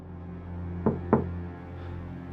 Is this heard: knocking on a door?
yes